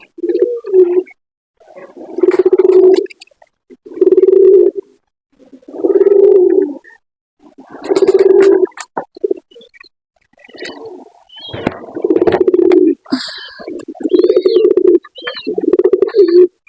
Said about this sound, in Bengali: এই যে কবুতরগুলো এখন বাইরে আছে এখন আসে নাই এখন আসতেছে